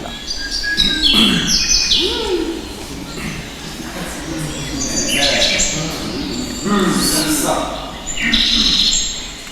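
Bird chirps and tweets come in several bright, fluttering bursts over a continuous murmur that sounds like voices, rising and falling for nearly ten seconds.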